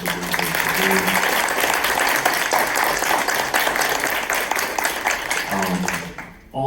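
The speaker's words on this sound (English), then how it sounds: "Let's give them a round of applause." Audience applause for a panel discussion at a Hoover Institution event, a dense sustained round of clapping that fills the room for about six seconds before fading, with a voice briefly audible.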